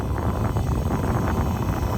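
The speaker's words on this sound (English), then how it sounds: "It's a little too windy" Steady wind buffeting the microphone, a continuous low rumble with no breaks and no voices.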